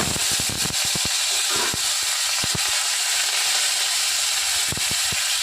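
Black mustard seeds, a dried chilli and curry leaves hitting hot oil for dal tempering, a loud close hiss and crackle throughout with scattered sharp pops from spluttering seeds, no speech.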